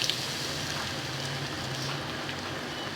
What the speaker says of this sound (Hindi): मैं इसको फ्राई करती हूँ